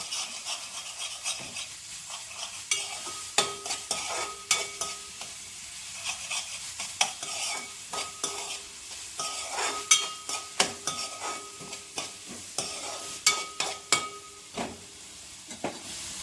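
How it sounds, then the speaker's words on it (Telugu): Onions fry in a pan for pav bhaji, a soft continuous sizzle broken by regular spatula stirs and scrapes against the metal, close and without talk. "ఇప్పుడు ఆనియన్స్ గోల్డెన్ బ్రౌన్ అయ్యేంత వరకు వెయిట్ చేద్దాం"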